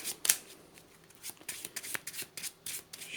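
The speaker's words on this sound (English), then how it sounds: "Shuffle the deck" Cards shuffled by hand during a Marvel Champions card game, a quick run of crisp riffling and soft rubbing bursts, close and fairly quiet, with no talking.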